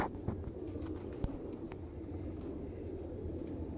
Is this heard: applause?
no